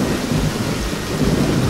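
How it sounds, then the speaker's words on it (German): Thunderstorm in the airport firefighting game Flughafen Feuerwehr Simulator 2013: loud, continuous rumbling thunder over heavy rain noise with no speech. "Und passend zu dieser Enttarnung spielt Viz Games ein Gewitter ein."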